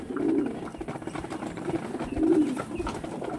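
Pigeons of a tournament-quality breed cooing close by, a few low, throaty rolling coos rising and falling in quick succession, with faint background rustle.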